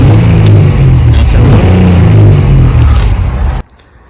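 A Honda Pilot passes close by with a loud, steady engine rumble and road noise for about three and a half seconds before the sound cuts off abruptly.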